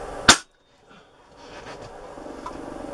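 A Chinese springer air rifle fires a single pellet, one sharp loud crack early on followed by brief quiet and faint room noise.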